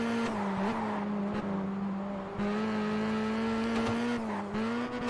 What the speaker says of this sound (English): It's got a very weird engine note when it's high up in the revs.